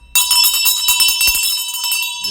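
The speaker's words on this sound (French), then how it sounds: "je fais exprès pour la sonner plus fort parce que la première cloche, elle sonne là" A bell rung hard and repeatedly, loud and bright with strong ringing overtones, a rapid run of struck peals sounding close up with no talk over it.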